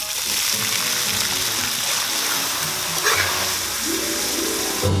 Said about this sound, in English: These get tossed in hot oil until they're crispy.